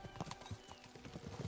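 Horse hooves clip-clop in a steady rhythm with a brief neigh, from Kingdom Come: Deliverance II, close and fairly loud over a busy game soundscape.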